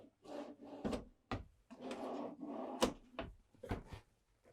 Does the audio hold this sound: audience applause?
no